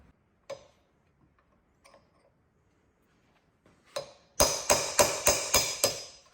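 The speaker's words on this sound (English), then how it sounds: "just keep tapping it and see if we can't walk it off" Metal tapping on a brake rotor race on a Polaris RZR 900 Trail: a few scattered light taps, then a quick run of six sharp, ringing hammer strikes close by.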